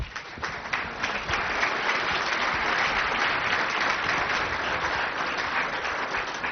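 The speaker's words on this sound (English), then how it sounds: "I know that by that warm applause, we're expressing our gratitude." A gathering gives warm applause after a presentation, sustained even clapping at moderate distance with no talk over it.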